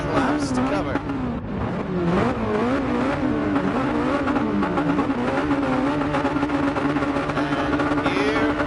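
Race cars revving together at the start of a 14-lap race at Laguna Seca in a racing video game, a dense steady engine drone with rising revs throughout, while a commentator talks over it.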